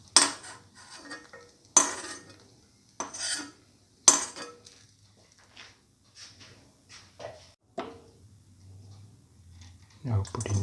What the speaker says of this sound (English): Now take off the cashew in the pan after it has been browned.